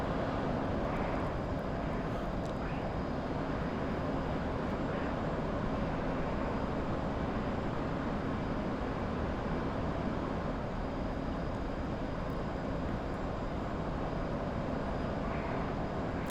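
Steady, continuous roar of an F/A-18 Hornet jet engine in the DCS flight simulator game, a constant broadband rumble at moderate level with no breaks or speech.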